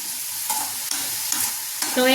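Pirandai (adamant creeper) sautéing in a pan gives a steady close sizzle, broken by a few brief stirring scrapes.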